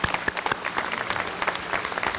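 An audience at the outdoor Walk of the Flags dedication at the Oregon State Capitol in Salem claps steadily, a dense patter of many hands with a few sharper nearby claps, sustained throughout.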